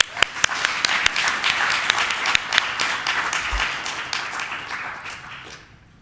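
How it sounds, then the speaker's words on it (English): Audience applause at a cybersecurity forum, a dense round of clapping with sharp individual claps early on, holding steady before tapering away over the last second. "Can we get a round of applause for that?"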